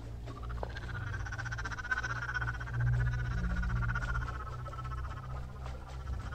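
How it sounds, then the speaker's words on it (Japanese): A frog croaking effect from a video game set in a dark building on a night-shift job of switching off lights keeps up a dense, rapid chattering of croaks over a low steady hum, with no talking. "カエルの鳴き声、押しすぎでしょ。"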